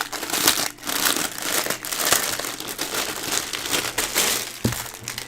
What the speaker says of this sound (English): let me get rid of the crinkly